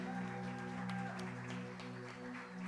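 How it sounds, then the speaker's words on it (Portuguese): A congregation claps during a family church service, a broad patter of applause rising over sustained keyboard or organ chords that continue steadily underneath. "Aplaudam a Jesus."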